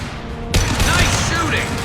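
Gunfire erupts in the sci-fi shooter Mass Effect 2. After a quiet start comes a sudden loud burst of rapid shots with clattering echoes, mixed with battle voices.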